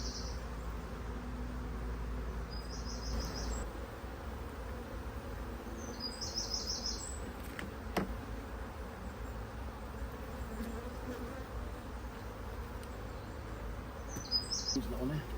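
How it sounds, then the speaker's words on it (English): Honey bees buzz around an open wooden beehive outdoors, a dense, continuous low drone that stays steady and near, with occasional bird chirps above it and no clear speech. "the bees will sting me because I'm accidentally crushing their legs as they run around my finger"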